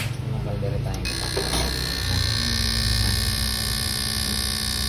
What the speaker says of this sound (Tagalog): nag-i-spray yung ating injector na sinalang